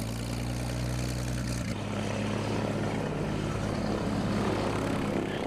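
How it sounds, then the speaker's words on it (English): A propeller aeroplane moves along the main street of an outback town, its engine a steady, loud drone that shifts in pitch partway through and continues throughout. "it pays to give way to kids on motorbikes and aeroplanes in the main street"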